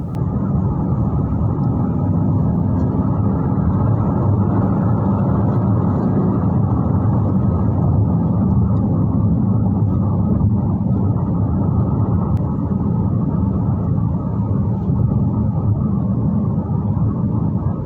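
A Citroen C5 Aircross accelerates on a highway, heard from inside the cabin as a steady, loud low road and engine rumble that runs unbroken for the whole stretch.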